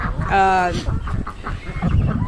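Chickens and roosters, including Rhode Island Red males, squawk and cluck loudly on a farm after being fed, with a sustained crowing call up front and a voice talking over the busy flock.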